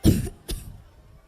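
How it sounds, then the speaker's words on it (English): Two sharp coughs, a strong one followed by a shorter one, close and clear with no talking. "I am suffering from cough."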